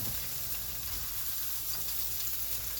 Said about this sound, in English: our olive oil is smoking on our big pan. Salmon in.